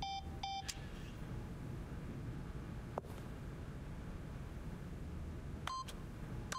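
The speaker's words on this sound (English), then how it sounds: "by simply pushing random buttons on the keypad, Stanley happened to input the correct code by sheer luck" Electronic keypad button beeps from The Stanley Parable: a quick pair of short tones at the start and another cluster near the end, separated by a quiet stretch with a single faint click.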